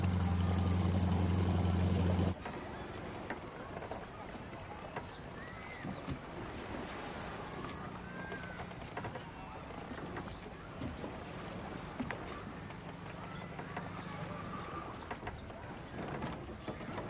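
A boat engine runs loudly and close for about two seconds, then continues as a softer hum beneath steady wind and lapping water for the rest of the stretch.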